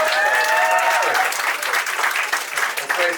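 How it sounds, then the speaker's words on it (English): A comedy club audience gives a big round of applause, a loud, dense wash of clapping from a packed room that stays strong across the clip, with a few faint shouts and tones mixed in. "Big round of applause for Trista for doing such a great job"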